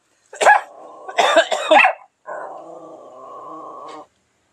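Several harsh coughs in quick succession up close, followed by a longer droning, growly vocal sound.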